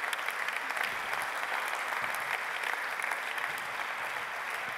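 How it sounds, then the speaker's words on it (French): Sustained applause from a conference audience, a steady dense patter of many hands clapping throughout with no let-up, fairly loud and without any speech over it. "Vous pouvez les applaudir."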